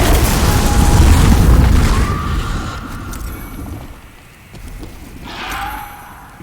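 A dragon's fire blast sweeps across a bridge in Demon's Souls, a loud roaring whoosh that peaks early, fades away, then swells briefly again before dying down.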